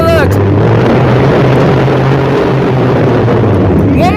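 A voice imitates a Formula One car engine with a loud, sustained buzzing drone held steadily for several seconds, close to the microphone.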